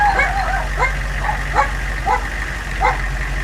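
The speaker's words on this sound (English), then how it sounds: "farm dogs have decided to go crazy over something" Farm dogs barking in the Farming Simulator 19 video game, a string of about six yappy barks at a steady pace over a constant low engine rumble, with no talking.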